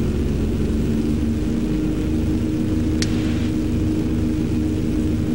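Inside the cockpit of a propeller aircraft on landing approach near Juneau, Alaska in 1998, a steady low engine and propeller drone fills the cabin, broken by a single sharp click midway.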